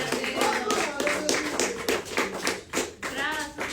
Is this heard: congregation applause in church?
yes